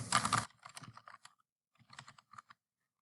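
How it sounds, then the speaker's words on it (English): Typing on a computer keyboard, a close burst of clicky keystrokes in two uneven runs with a short pause between, ending in quiet. "And I'm going to type the name of my company."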